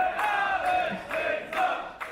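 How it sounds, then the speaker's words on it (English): Wrestling crowd at a live women's show roaring and chanting in swelling bursts, loud and dense, filling the arena without a break. "Listen to the crowd here."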